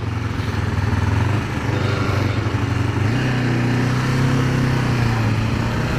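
The engine of a Kawasaki Ninja 500R sport-touring motorcycle drones steadily under way. It is heard up close with a low hum, small shifts in pitch and brief dips in revs, and nobody speaks.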